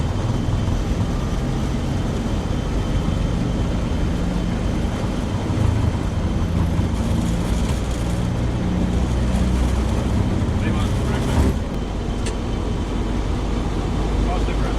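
A Virgin Blue airliner's jet engines roar steadily at takeoff thrust in a cockpit setting, a continuous heavy rumble throughout with crew voices calling out over it.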